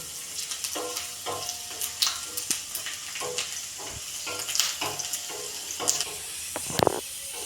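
Garlic frying in a pan for dhokla, crackling and sizzling steadily up close with scattered pops and a few light stirring scrapes, no talking.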